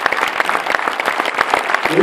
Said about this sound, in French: Vous pouvez les applaudir, hein.